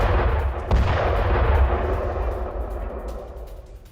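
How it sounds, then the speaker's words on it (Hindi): A Russian air strike on a Ukrainian military base in Dnipro: one sharp blast lands early, then heavy rumbling booms roll on and slowly fade, loud and fairly distant. "अब निप्रो में रूस के हवाई हमले की एक तस्वीर देखिएगा, क्योंकि यूक्रेनी सैन्य अड्डे को निशाना बनाया गया"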